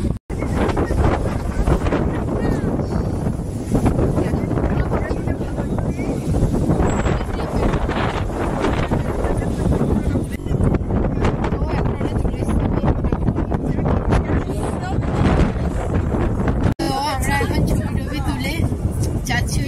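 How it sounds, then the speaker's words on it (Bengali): Strong wind roars steadily against the microphone, loud and buffeting throughout, with brief gusty surges, while travelling from Germany to Austria. "সামনের দিকটায় বাতাস হচ্ছে, ফেলে দেবে মনে হচ্ছে"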